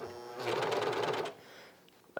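A sewing machine hems the bottom of grey plaid pants in a steady, close whirring run of about a second before stopping, followed by a faint click.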